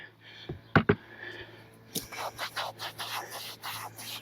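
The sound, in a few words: scrubbing camper side with scrub brush and Dawn soap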